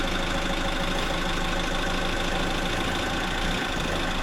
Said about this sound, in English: A highly skilled forklift operator at work.